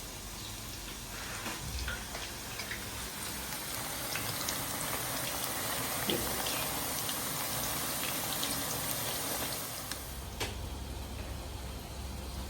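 Pakoras frying in hot oil, a soft, steady crackle of fine bubbling pops that continues evenly throughout, faint and without voices.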